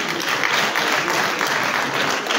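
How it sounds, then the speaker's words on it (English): An audience in Liberia claps for the Attorney General at a youth empowerment event attended by President Boakai: a sustained, even round of applause from a sizable crowd, lasting a couple of seconds. "Clap for Samuel Fakoli."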